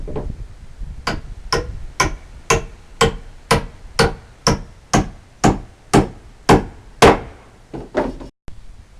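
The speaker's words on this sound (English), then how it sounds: "all the rest of the nailing now is going to be done by hand" Nails are hammered by hand into a shed under construction, a steady series of about fifteen sharp, evenly spaced blows, loud and close, with a couple of quicker strikes at the end.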